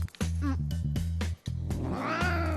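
Domestic cats being brushed during a farm chore, with repeated meows and caterwauling layered over a steady low hum and strong background music, near and loud across the whole stretch.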